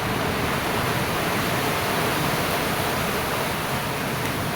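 Broadband rushing water fills the scene without a break, the steady roar of floodwater flowing near open fields close to Kadam Deuli village, loud and continuous with no voices.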